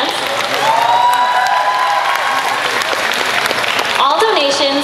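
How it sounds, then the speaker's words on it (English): Audience applause for dance contestants at a community event, a loud, full round of clapping with some cheering and whoops. A voice talks over it near the end. "how about one more round of applause for our beautiful contestants and their awesome dance?"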